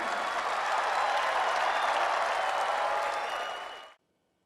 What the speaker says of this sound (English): start clapping right quick